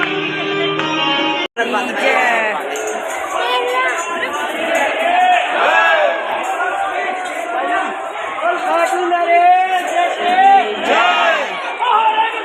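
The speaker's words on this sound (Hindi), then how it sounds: "भीड़ बहुत ज़्यादा हो गई है।" A large crowd of devotees at the Khatu Shyam temple fills the space with dense, loud, continuous voices and chanting-like calls, many people shouting and talking at once, close around the listener.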